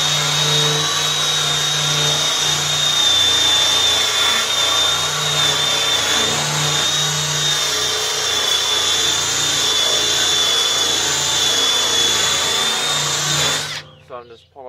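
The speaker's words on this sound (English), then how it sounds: "So I just got it, my Makita drill here," A Makita power drill whines steadily and loudly with a high-pitched hum while polishing a metal Toyota Corolla 2E fuel tank, running continuously before cutting off abruptly near the end.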